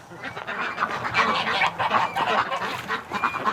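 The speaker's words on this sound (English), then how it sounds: "The geese are trying to eat the heater." Geese honk repeatedly and loudly close by during a winter stay at a duck rescue, a busy overlapping chorus of calls with occasional duck quacks mixed in.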